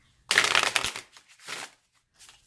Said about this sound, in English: shuffle it that way to make sure that they're all nice and shuffled